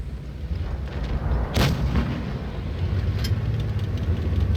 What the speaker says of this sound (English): I'm still being shot at